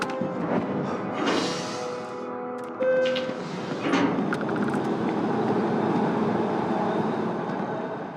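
A train in the video game Starfield: a sliding door and chime give way to a steady, rising rumble of rail travel that fills the rest, loud and close, with no talk.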